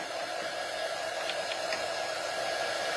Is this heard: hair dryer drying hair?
yes